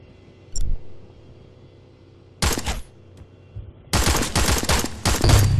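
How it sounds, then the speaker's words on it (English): Video game gunfire with high-impact rounds shot at targets: a short burst, then two sustained volleys of rapid automatic shots, loud and close, with brief pauses and no talking. "Pop your ability and shoot those targets over there."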